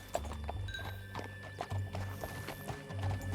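Horse hooves clip-clop in a steady galloping rhythm in the video game Red Dead Redemption 2, moderately close, with occasional whinnies and a continuous hum of game ambience underneath.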